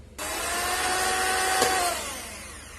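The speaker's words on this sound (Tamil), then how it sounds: "சர்க்கரை சேர்த்தி நம்ம இதை பீட் பண்ணிக்கலாம்" Electric hand mixer whipping sugar into chiffon cake batter, a steady loud whirring drone that starts abruptly and holds at an even pitch for a couple of seconds before easing off, with no talk.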